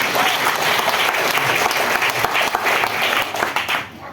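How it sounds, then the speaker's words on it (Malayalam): Audience applause at a business gathering in Ernakulam, a dense, steady burst of many hands clapping that fills the whole stretch at close range and fades slightly at the very end. "എറണാകുളത്ത് ഇതിന് നല്ല കൈയടി എന്നാണോ പറയുക?"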